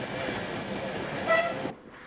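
A train runs along a railway with a steady rumbling, rattling roar and a brief tonal note in the middle, then the sound drops away sharply at the end.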